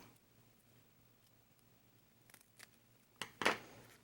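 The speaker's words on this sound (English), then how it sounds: "we want to take our hook and loop closures, and we want to cut little pieces" Scissors snip hook and loop closure strips into small pieces, several quiet crisp cuts clustered at the end after a near-silent stretch.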